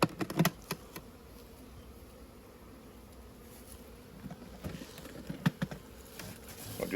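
Honeybees buzz at an open hive with a nearly full honey box, a steady low hum with a few sharper bursts and faint clicks close by.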